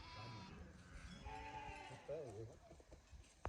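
Sheep and goats bleat while grazing beside a deep ravine in cold mountain country, a few wavering bleats rising over someone talking close by and a soft outdoor background.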